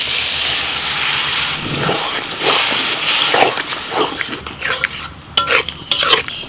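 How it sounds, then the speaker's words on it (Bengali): Boiled mung dal is stirred into a pan of frying masala with fish heads: scraping spoon strokes and clinks over a fading sizzle, close and fairly loud, with a few voices in the background. "এবার দিয়ে দিচ্ছি সিদ্ধ করা মুগের ডাল।"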